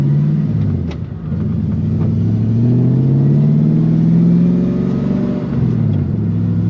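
Ford F250 pickup truck rolling down the road, its engine rumbling and revving through gear changes with a low droning tone that rises and falls, heard from inside the cab with no talking.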